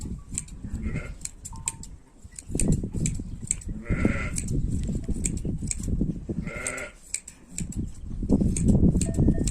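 Several sheep bleat repeatedly during shearing, close and loud, overlapping one another against a background of rustling and shuffling.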